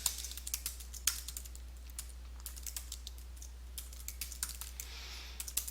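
Code being typed on a computer keyboard, with quick irregular runs of light key clicks and a few harder taps, close but quiet over a low steady hum.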